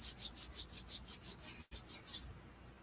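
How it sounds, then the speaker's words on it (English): Palms rubbing briskly together, about a dozen quick rhythmic swishes close and clear, briefly interrupted, then fading into quiet. "rub your hands together"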